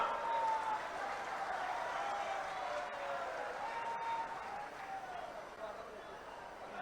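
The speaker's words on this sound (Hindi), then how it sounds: "करतल ध्वनि से स्वागत हो, तालियों से," Crowd applause welcoming ministers and dignitaries at a memorial inauguration event in Bahraich, a continuous wash of clapping from a large outdoor audience, with a tone and voice audible beneath it.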